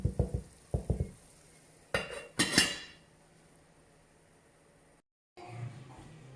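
Chicken with olives cooking in a pot over low to medium heat is stirred: a few soft knocks and scraping strokes, then a short louder scrape, before the pot falls to a quiet simmer.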